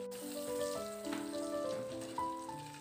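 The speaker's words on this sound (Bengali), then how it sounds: "এবার আমি ভালো করে উল্টে পাল্টে ভেজে নেব" Raw green bananas (kanchkola) frying in oil in a pan, a soft steady sizzle with faint crackles and pops throughout, fairly quiet.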